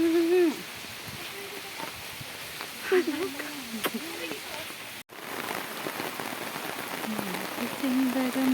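Steady rain patters near a Kerala temple, a constant soft wash of drops throughout, with scattered faint voices and a brief dropout midway.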